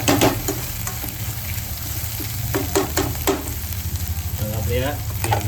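Masala for paneer butter masala sizzles and fries in a pan, a steady close crackle broken by sharp clicks of stirring and a brief squeaky scrape near the end.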